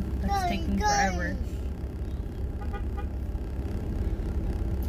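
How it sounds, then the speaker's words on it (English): A car horn toots a couple of short honks near the start while the car waits in a slow line of traffic, then engine and road noise continue under a voice. "What are you honking at?"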